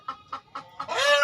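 A hen, a speckled blorok type and a brown superior laying type, clucks close by in four short evenly spaced calls, then breaks into a louder, longer, drawn-out cackle.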